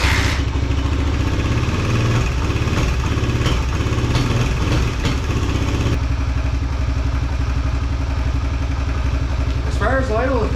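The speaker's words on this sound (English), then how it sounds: "It'll sit there and idle like this, no problem" A 2021 Suzuki DRZ 125 motorcycle idles with the choke on. Its small single-cylinder engine runs with a close, steady, loud chugging putter that holds throughout without revving.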